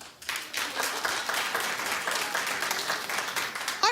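Studio audience of a daytime talk show breaks into dense, sustained clapping after a brief quiet start, holding steady at full strength to the end.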